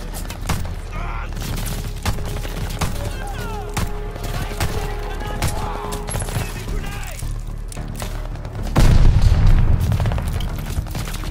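Booming explosions and bursts of gunfire from a WWII video game battle at Tobruk, loud and dense throughout with a heavy blast near the end, while voices talk over the combat.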